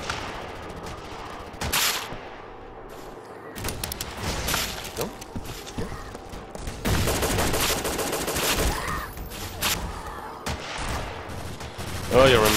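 Rapid bursts of AK rifle fire crackle in Brainbread 2, coming in several loud volleys broken by quieter gaps, with a voice talking faintly underneath.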